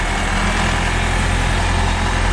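A Toyota 4x4 fitted with a Cummins 4BT diesel engine runs steadily under load, a loud, dense diesel drone filling the cabin with no clear break for a gear change.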